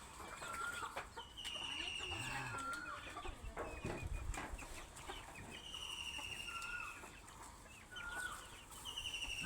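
Egg-laying hens on a small poultry farm cluck and call in scattered bursts, several birds close by with brief squawks and a soft crow-like cry over a quiet farmyard background.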